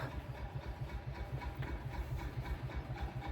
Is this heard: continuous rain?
no